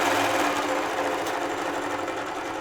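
An HQ Moxie longarm quilting machine stitching a quilt, giving a steady, loud, continuous mechanical whir that holds evenly throughout with no talking.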